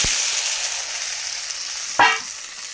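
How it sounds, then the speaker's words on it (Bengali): Potatoes drop into hot oil in a village kitchen, a steady hissing sizzle with a sudden louder spitting burst near the end, close and alone. "তো সেগুলো আমরা দিয়ে দিব এই তেলের ভিতরে দিয়ে ভেজে নেব আলুগুলোকে"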